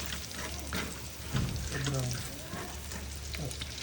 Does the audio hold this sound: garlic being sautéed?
yes